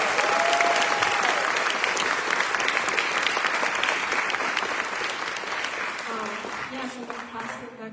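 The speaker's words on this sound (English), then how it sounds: "can we give one last round of applause for everyone?" A lecture-hall audience at a university McNair lecture gives a long, loud round of applause that holds steady, then slowly thins out toward the end, with a faint voice and a brief tone sounding through it.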